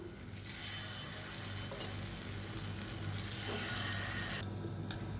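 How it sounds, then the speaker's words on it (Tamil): Spicy lentil appam batter is poured into a hot paniyaram pan greased with a little oil, giving a steady, close sizzling hiss that holds throughout with slight surges, no voices. "இப்போ நம்ம கலந்து வச்சுருக்க மாவு வந்து ஊற்றிக்கலாம்."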